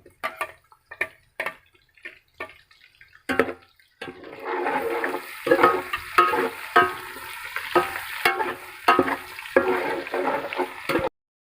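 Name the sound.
frying garlic, ginger and onion for beef pulao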